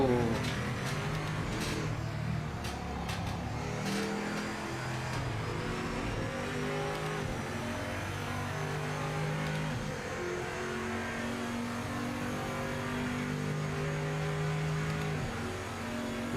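Race car engines, including BMW and Porsche GT cars, in Project Motor Racing at Imola: a continuous revving, shifting drone with a few sharp clicks, steady and moderately loud throughout.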